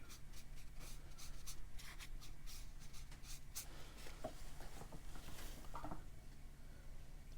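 Watercolor brush pen sketching a loose green landscape on paper, a soft continuous scratchy rubbing of the tip with quick light strokes and short dabs, close and quiet.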